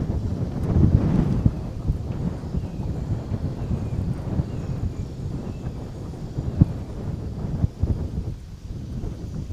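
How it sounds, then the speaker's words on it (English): Steady wind buffeting a microphone outdoors on open water in Florida, a continuous low rumbling roar with occasional thumps and gusts, loud and close, with no talking. "The wind is starting to pick up."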